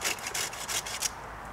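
Hand saw cutting through wood for a fence, a run of close rhythmic rasping strokes, about six quick back-and-forth passes, then the cutting stops and only faint background remains.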